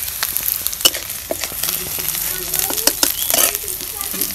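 Local chicken meat cooking in a pan with garam masala, cumin, ginger, garlic, onion and chillies, a steady sizzle broken by frequent clicks and stirring scrapes, close and fairly loud.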